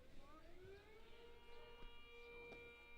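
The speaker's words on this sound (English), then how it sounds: "In the dirt for ball 1 as the siren sounds off here in Larchwood" A civil defense siren wails in the distance during a baseball game in Larchwood, its steady tone rising and falling slowly over low ambient noise.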